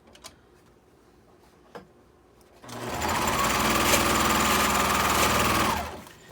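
An overlocking serger runs in a steady continuous whir for about three seconds, stitching and trimming the fabric edges of a washable medical shoe cover, after a few faint clicks and quiet handling sounds.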